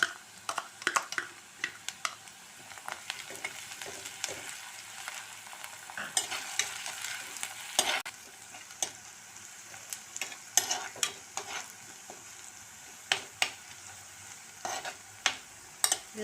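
Crushed ginger and garlic sizzle with onions in a pan for a fish curry, a soft steady frying hiss broken by frequent scraping stirs of a spatula against the pan.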